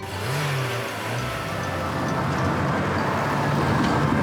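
Toy tow truck and cars rolling into a repair shop, a continuous loud engine drone with rising revving tones throughout, no talk.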